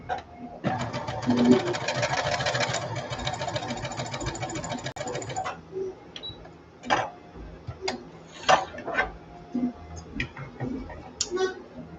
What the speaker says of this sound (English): I'm gonna sew that hem again once more.